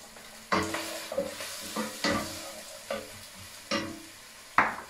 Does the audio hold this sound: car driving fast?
no